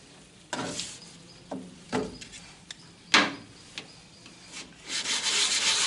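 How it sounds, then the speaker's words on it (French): Wood being hand-sanded to round it into a ball for a mallet-and-wooden-ball game, heard as scattered close rubbing and scraping strokes that build toward a denser, continuous rasp at the end. "Et là, je vais poncer de la sorte."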